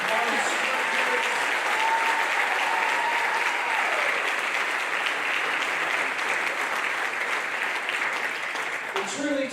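An audience at an afterschool music program showcase gives sustained, even applause for the students, many hands clapping steadily for most of the stretch before it tapers near the end, with a faint voice underneath.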